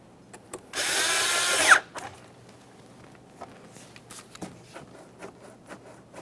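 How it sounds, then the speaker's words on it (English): A power driver whirs in one loud, steady burst of about a second while tightening an 8mm-headed hose clamp on the air inlet tube of a 2011-2021 Jeep Grand Cherokee, followed by faint handling clicks and taps. "this time we're going to tighten the 8mm headed clamp"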